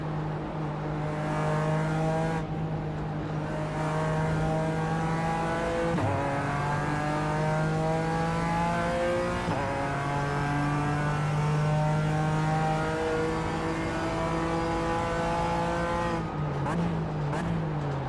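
BMW race cars in the iRacing sim roar steadily at high revs, engine pitch sliding up and down through gear changes, with other cars' engines mixed in close by during a tight pack battle.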